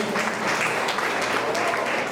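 A church congregation applauds during a worship service, a steady dense clatter of many hands filling the space without a break.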